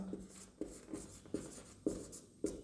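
Pen or chalk writing the word topaz during a Bengali English grammar lesson, heard as five distinct scratchy strokes at a steady rhythm, fairly quiet and close, with no talk.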